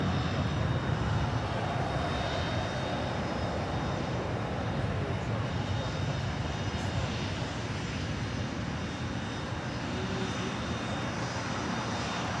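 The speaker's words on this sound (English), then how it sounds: "That is American 612 departing to Orlando on an A321." An American Airlines Airbus A321 departs LAX with a broad, continuous engine roar. The sound is steady and loud throughout, with no break, and a faint voice can be heard underneath.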